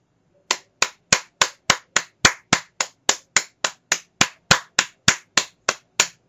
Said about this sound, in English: Not a golf clap, an actual real clap.